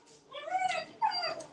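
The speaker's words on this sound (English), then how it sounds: "I'm gonna hear the dog scream." A dog at home lets out two high, whining yelps of excitement as its owner comes back, each one a drawn-out cry rising and falling, heard close and fairly loud.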